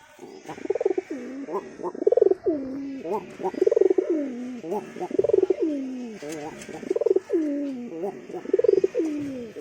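Rhythmic, throaty pigeon coos repeat close by in steady bursts, one after another, with no talking.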